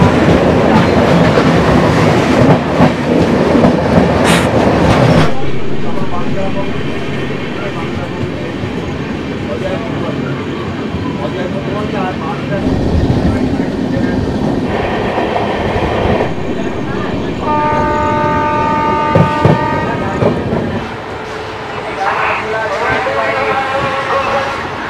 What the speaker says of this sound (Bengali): মোগল সরাইতে ট্রেন ঢোকে।